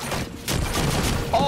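Shotgun blasts in Quantum Break come as sharp, loud shots in quick succession within a short stretch of gunfire and combat noise.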